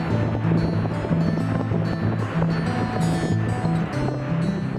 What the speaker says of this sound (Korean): 진짜 폭포 안에 들어온 것 같아가지고